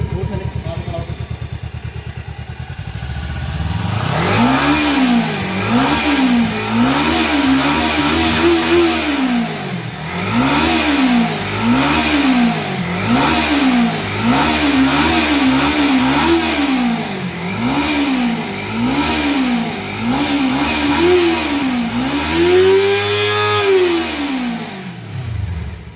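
Kawasaki Ninja 300 motorcycle engine revved repeatedly up close, rising and falling in regular throttle blips from idle, ending with one longer high rev before dropping back.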